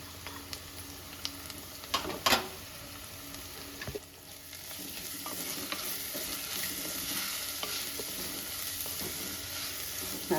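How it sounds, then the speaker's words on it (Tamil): Crushed ginger garlic paste frying with onions in a pan for Kerala-style coconut milk rice, a steady sizzle with occasional stirring scrapes and clicks, close and moderately loud, without speech. "பாருங்க, வெங்காயமெல்லாம் நல்லா பொரிஞ்சு வருது."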